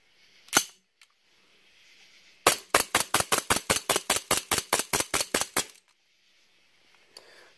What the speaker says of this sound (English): Starting to get low on gas on mag number 3, but that's pretty normal for most gas guns anyways.